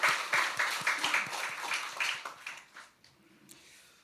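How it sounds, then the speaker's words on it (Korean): A congregation at a Korean church Sunday service claps together for the choir in a dense burst of rapid, overlapping claps that fades out after nearly three seconds, leaving near silence. "우리 한번 경례의 박수 하겠습니다"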